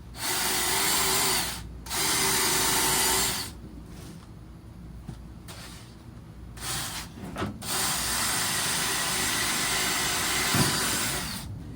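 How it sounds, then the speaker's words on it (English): A power drill whines in long, loud bursts, drilling holes for T-nuts while rebuilding a golf cart, stopping and starting between holes, with brief handling clatter during the pauses; no talking. "you can see I have my 4 dots where I'm going to drill my 4 holes"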